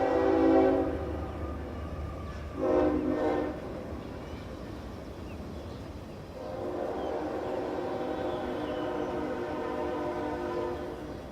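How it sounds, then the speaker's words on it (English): A train passes near an outdoor graduation ceremony, sounding its horn in two loud blasts before a steady, rumbling roll of rail cars continues to the end. "Ladies and gentlemen, you're going to hear a train go by here."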